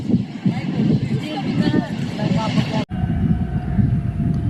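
The Pak Business Express train pulls out of Gandhi railway station in Karachi with a loud, steady rumble of moving rail cars, while someone talks over it.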